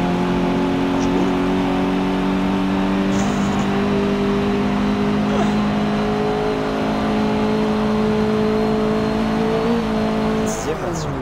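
A Mini Cooper engine in a racing game played on a Logitech G920 wheel, steady loud droning hum that holds its pitch with small shifts, near and continuous, with voices over it.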